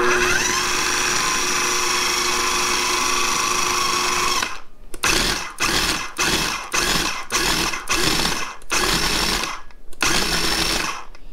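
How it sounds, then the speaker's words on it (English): A KitchenAid food processor blending bananas whirs steadily at first, then runs in about eight rhythmic bursts of motor noise separated by short gaps, loud and close with no talk. "we're going to close the lid and turn our food processor on"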